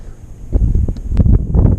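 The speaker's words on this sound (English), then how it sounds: "This wind is a problem, man." Wind buffets an outdoor bass-fishing spot in a park in Oregon, loud gusty rumbles hitting the microphone in uneven surges after a quieter start.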